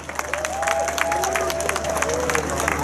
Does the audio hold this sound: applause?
yes